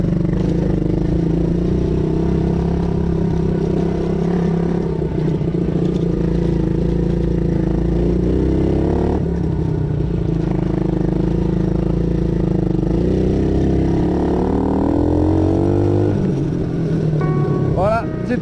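A cheap used quad bike bought for 35 euros drones steadily as it is ridden, its engine rumbling loud and close throughout, with a rising rev near the end and a voice briefly audible.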